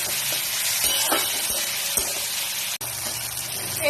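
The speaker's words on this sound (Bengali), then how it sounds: "দিয়ে আরো একটু নেড়ে চেড়ে নিচ্ছি। আর একটু ভাজা ভাজা মতো করে নিচ্ছি।" Onion, capsicum, tomato and garlic sizzle steadily in a hot pan, with a few scraping stirs of a spatula breaking through the continuous close frying hiss.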